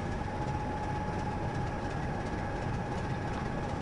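A train in Train Simulator runs along the East Coast Main Line with a steady, continuous rumble and drone. A faint rhythmic clatter sits under the noise, and no one speaks.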